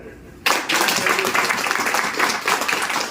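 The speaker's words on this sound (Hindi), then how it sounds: "अपने लिए एक बार ताली।" An audience at a training program breaks into loud applause after a brief quiet moment. Dense, sustained clapping fills the room for about three seconds.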